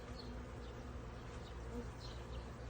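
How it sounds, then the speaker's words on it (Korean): Honeybees buzz steadily around a flowering tree in spring, a continuous soft insect drone with a few faint higher chirps over it. "오 꿀벌들 반갑다 얘들아"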